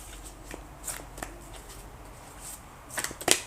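A Shaman's Oracle card deck is shuffled in a quiet room, with soft riffling bursts scattered through the moment and a louder, brisker shuffle at the end.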